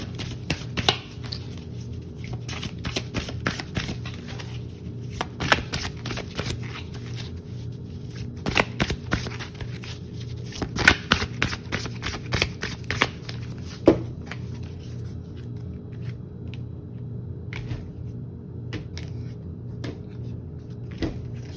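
Tarot cards are shuffled and drawn from a deck, giving a long run of close, crisp riffling and slapping bursts with brief pauses between them.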